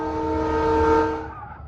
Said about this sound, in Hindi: ट्रेन का हॉर्न पूरे जंगल में गूंजा